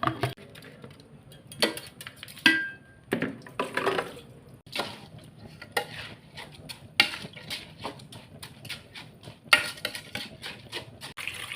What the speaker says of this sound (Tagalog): Lagyan na natin, guys, yung bigas natin